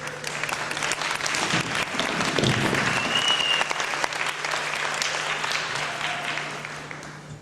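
Sustained applause from a crowd at a renaming ceremony for a community center for the deaf, steady and dense clapping filling the room for several seconds before slowly tapering off.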